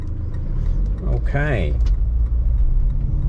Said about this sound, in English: I'm just going to accelerate away from this junction so you can actually watch the car go through RPMs